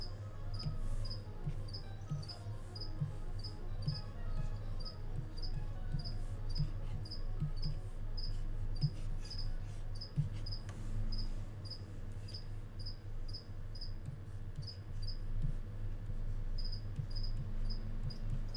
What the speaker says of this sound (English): Crickets, yes, I hear you.